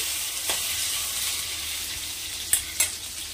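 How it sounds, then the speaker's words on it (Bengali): Onions, black cumin and garlic fry in hot oil for lentil dal, a continuous hiss with a few sharp spatula taps against the pan near the end. "পেঁয়াজটা আমার ভাজা হয়ে গেছে"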